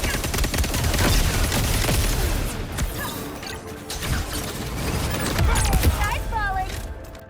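Gunfire from the online shooter Concord, dense bursts of punchy rapid shots and impacts with some smashing crashes, loud and layered beneath a narrator's voice.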